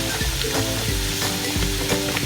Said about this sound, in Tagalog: Ngayon, ang ilalagay na po natin ay ang ating carrots.